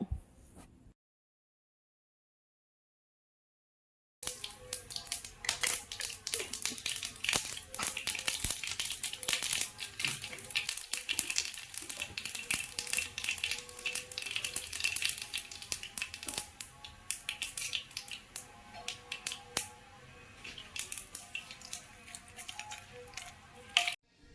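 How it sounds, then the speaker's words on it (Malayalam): Mustard seeds spluttering in hot sesame oil while making Kerala-style mango pickle: a dense, crackling sizzle of rapid pops that starts abruptly after a brief silence and keeps going steadily, close and lively. "അപ്പോൾ എണ്ണയെല്ലാം ചൂടാകുമ്പോഴേക്കും നമുക്കിതിലേക്ക് കടുക് ചേർത്ത് കൊടുക്കാം."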